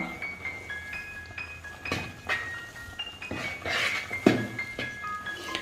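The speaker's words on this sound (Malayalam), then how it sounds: "അപ്പോൾ നമുക്ക് പതിയെ ഒരു തവി ഉപയോഗിച്ചൊന്ന് ഇളക്കി കൊടുക്കാം" A ladle stirs risen palappam batter in a metal vessel, making sparse, light clinks and taps with soft swishes between them, fairly close and quiet, with no speech.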